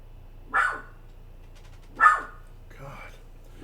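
Indoor dog giving three sharp, single barks spaced over a second apart, close and loud against a quiet room with a low hum.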